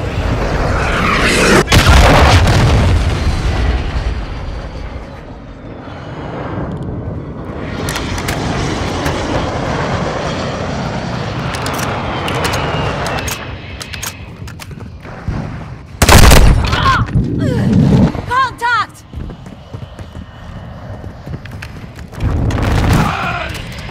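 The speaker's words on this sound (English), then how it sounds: "Hostiles launched a cruise missile." Heavy booms from cruise missile strikes in Call of Duty: Modern Warfare II burst amid rattling automatic gunfire, with loud impacts near the middle and end of a chaotic battle soundscape.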